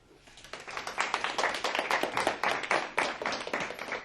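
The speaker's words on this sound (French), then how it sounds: "je vais vous demander de l'applaudir" An audience claps steadily at a club event welcoming a guest speaker to her seat, the applause building quickly and holding as a dense, even patter of many hands close by, with no voices over it.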